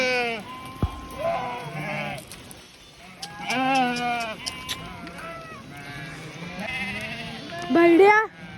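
A flock of sheep back from grazing in a village bleat repeatedly, several calls overlapping near and far, with people talking among them.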